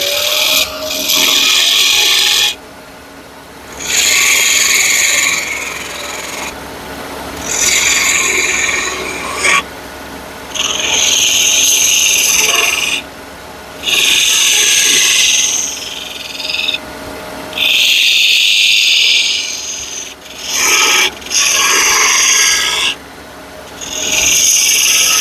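Repeated strokes of a file cleaning up an edge, in loud, rasping bursts of roughly a second or two, separated by short pauses, close to the listener.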